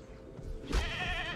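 In Jurassic World Evolution 2, a goat lets out a single loud, quavering bleat that starts partway through and holds to the end, following a quieter stretch of low game ambience.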